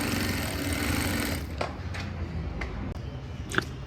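Electronic straight-stitch sewing machine running fast and steady for about a second and a half before easing off, followed by a few sharp mechanical clicks and taps up close, with no talking.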